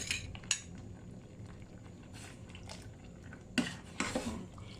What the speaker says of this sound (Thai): คนหม้อไปพร้อมเพราะว่าข้าว ข้าวจะไม่ได้จับกันเป็นก้อน